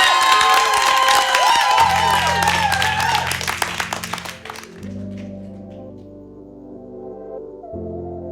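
An audience at a live music talk show applauds and cheers a band loudly, the clapping fading after a few seconds as the band's sustained music begins underneath.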